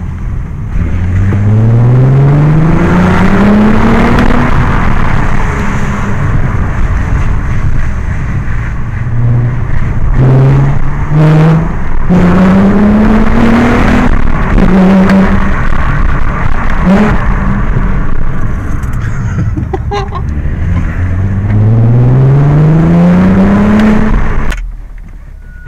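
An Audi A3 fitted with an Audi S3 exhaust revs repeatedly up close, engine notes climbing in loud sweeping bursts between rumbling idle, then cutting off near the end.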